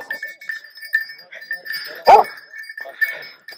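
A Barak hunting dog barks once, sharp and loud, during a wild boar hunt in Amasya, Turkey. Outdoor noise and people talking surround the bark.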